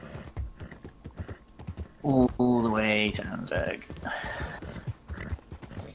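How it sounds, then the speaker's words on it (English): A horse in the Red Dead Redemption 2 roleplay game snorts and whinnies loudly with hoof sounds, while people talk over it throughout. "My horse is freaking out."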